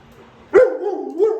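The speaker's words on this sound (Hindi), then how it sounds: "नो भौंकने से काम नहीं चलेगा" A single close, loud dog bark followed by a short whining yelp, with no other sounds around it.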